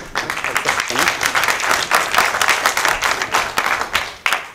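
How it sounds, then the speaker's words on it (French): An audience applauds a speaker at a political gathering, a dense burst of close, loud clapping that rolls on steadily for several seconds with no one talking over it. "Applaudissez-la, c'est son premier speech en français."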